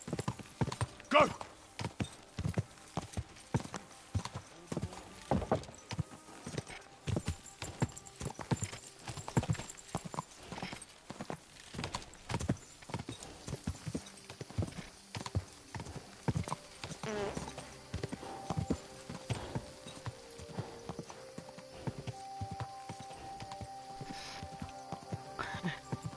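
Horse hooves clip-clop steadily in Kingdom Come Deliverance 2, a continuous rhythmic walking beat that runs throughout at moderate loudness, with occasional voices in the background.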